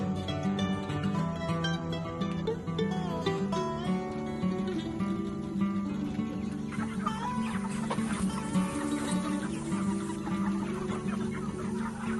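A flock of meat chickens on a farm clucks steadily and continuously, a dense, close chorus of overlapping bird calls filling the whole stretch without pause.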